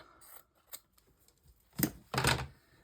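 Scissors snip through the cover and pages of a Little Golden Book with a few light clicks, then two louder, crunchier cuts close by.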